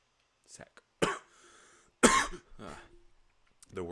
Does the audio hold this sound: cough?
yes